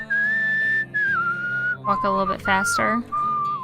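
Whistling a tune in the video game Where The Water Tastes Like Wine, sustained melodic notes that run alone at first and then continue under a brief spoken line.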